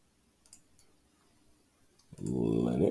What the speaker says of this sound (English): on the side, click on Linux.